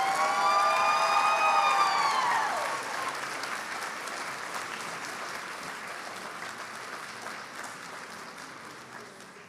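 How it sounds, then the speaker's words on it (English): Applause for a graduating nursing class at a pinning ceremony, a broad crowd clapping that fades over several seconds, with a siren wailing briefly at the start. "Let's give a round of applause to our graduating class."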